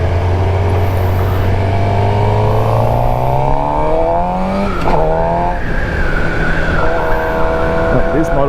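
A 2021 Suzuki GSX-R750 sport motorcycle accelerates hard, its loud engine note climbing through rising revs with gear changes, steady and close throughout.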